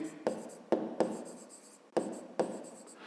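A pen writes on paper while solving a fifth-grade math exercise, making four sharp scratchy strokes that each tail off into a brief rasp, close and clear, with no talk.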